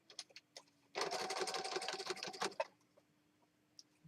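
A sewing machine stitches a handmade journal in one rapid, buzzing burst of about one and a half seconds, preceded and followed by quieter scattered clicks and handling sounds close by.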